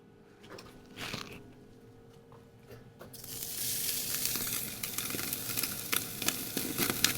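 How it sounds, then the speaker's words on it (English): Smoked steaks hitting an 800-degree grill, a quiet start that bursts into loud, continuous sizzling and crackling from about three seconds on, with sharp pops scattered through it. "Once we sear them now,"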